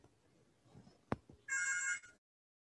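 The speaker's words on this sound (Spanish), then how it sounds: "estaba sonando el teléfono" A telephone rings once in a quiet lecture room, a short bright electronic burst lasting about half a second that follows a sharp click and some faint background noise, then stops.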